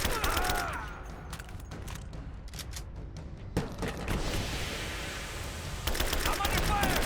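Dense bursts of automatic gunfire in a Rise of the Tomb Raider firefight, rapid cracking volleys mixed with booms, loud and close, with a voice speaking briefly over the shooting.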